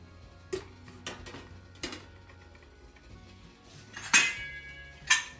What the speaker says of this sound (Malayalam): ഇനി നമുക്ക് തട്ട്, അതായത് ഇഡ്ഡലി തട്ട് ഇതിലേക്ക് ഇറക്കി വയ്ക്കാം.